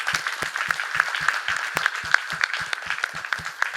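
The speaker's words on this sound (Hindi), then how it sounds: "सभी खुद आपके लिए ताली बजाएंगे" A theatre audience at a play performance claps rhythmically in unison, steady evenly spaced hand claps close by, with a light spread of other clapping around them.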